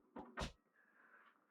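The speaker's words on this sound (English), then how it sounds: "Drawer there." A caravan storage drawer in a 2024 JB Scorpion Sting 23ft slides and bumps twice in quick succession, close and short, followed by a faint rubbing squeak as it settles.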